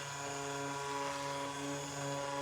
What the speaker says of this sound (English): as I'm stick blending it, I can hear that